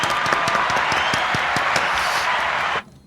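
Applause in a radio studio, a dense, even patter of clapping that holds steady for nearly three seconds and then stops abruptly.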